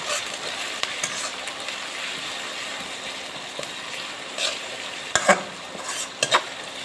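Ground spice paste stirred in a hot pan for a fish, potato and tomato curry, giving a steady soft sizzle with a few sharper scrapes and clinks of the spoon near the end, close up and without speech.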